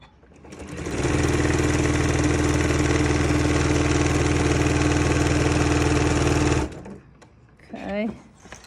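A sewing machine stitches a reversible apron in one continuous close, loud whirring run of about six seconds, then stops abruptly, followed by a short voice.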